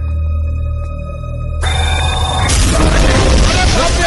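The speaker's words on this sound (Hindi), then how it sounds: "धुएं का बम लगता है" A smoke bomb bursts in a Hindi-dubbed action film scene, a sudden broad whoosh and hiss of smoke erupting that rolls on loudly after a tonal musical lead-in.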